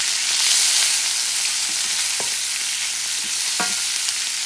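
Shrimp sizzle in a hot pan with a loud, steady hiss, broken by a few light clicks and scrapes of stirring, close up and with no one speaking.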